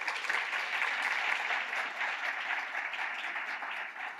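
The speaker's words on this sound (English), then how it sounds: "Round of applause." Steady applause from an audience, a dense wash of clapping hands that holds evenly for several seconds before easing slightly at the end.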